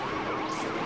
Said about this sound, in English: Nice, I got the sirens right away,